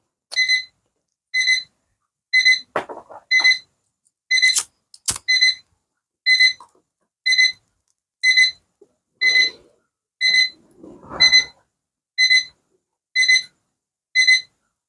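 An alarm clock set too loud rings in steady repeating beep bursts about once a second throughout, with scattered thumps and rustling between rings.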